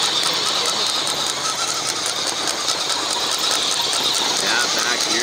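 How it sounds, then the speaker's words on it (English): A rapid mechanical clicking from a faulty differential and pinion on an RC tractor-pull truck, under a steady whirring drivetrain close by, with some voices in the background. "Yeah, differential's given that click."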